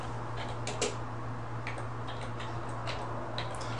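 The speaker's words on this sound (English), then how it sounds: "I'm just typing in Park Meadows if that's the area of interest." Soft, rapid clicking of keys being typed on a computer keyboard, faint and steady, in a quiet room.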